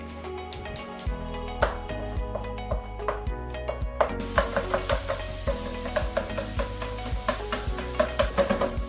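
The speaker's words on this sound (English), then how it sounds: "Next is the sausage. We're just going to brown and ground that" Ground sausage browns in a skillet while a spatula scrapes and taps in a quick, repeated rhythm. A sizzle runs beneath the strokes, close and fairly loud, with no one speaking.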